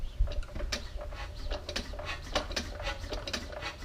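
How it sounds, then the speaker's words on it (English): Vintage Australian-made McDonald diesel engine being hand-cranked with the decompressor lifted, giving a steady run of rapid mechanical ratcheting clicks and clanks at close range, alone without talk. "give it a crank, pull the decomp up"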